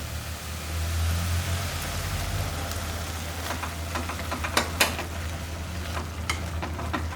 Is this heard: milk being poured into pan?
yes